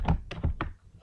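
Typing on a computer keyboard: four or five distinct, fairly loud thunking keystrokes in quick uneven succession, close by and alone without talk.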